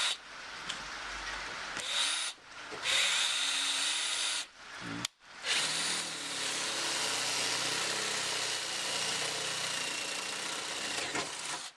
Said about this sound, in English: So we'll drill out the rest of those 1, 2, 3, 4, so the 6 holes.